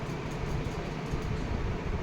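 A Vande Bharat Express train in Bangalore rolls by as a steady, loud rumbling roar with broad rushing noise that holds evenly throughout, with no voices.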